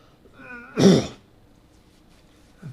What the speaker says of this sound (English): I'm going to have to clear my throat here